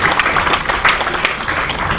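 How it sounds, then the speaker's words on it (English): Dense applause from a conference assembly audience fills the hall, steady and fairly loud, with many hands clapping together continuously for the full two seconds. "let us give a big round of applause to our panelists and to the facilitators"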